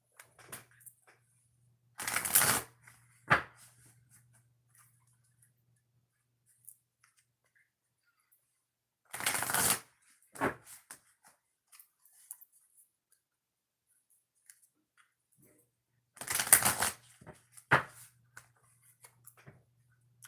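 Three short bursts of tarot cards being riffle-shuffled, each followed by a soft tap, separated by long quiet stretches.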